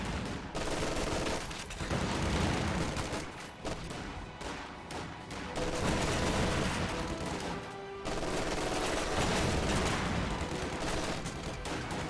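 MG42 machine gun fire in a World War II-style video game battle: long, dense bursts of rapid automatic fire with overlapping shots, loud and nearly continuous, with brief gaps between volleys.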